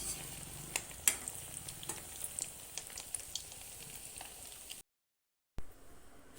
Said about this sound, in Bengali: এমন করে আমি সব কোপ্তাগুলো ভেজে নেব।